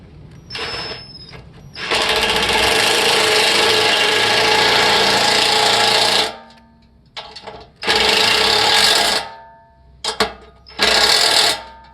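A power tool grinds and cuts into a nylon impeller flap on a 46-inch single-stage snow blower, sounding in loud sustained rasping bursts, the first long and steady, then shorter stop-start passes with quiet gaps between them.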